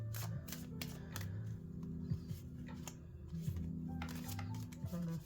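Rapid flicking and snapping of tarot cards being shuffled close by, in repeated short bursts over soft background music.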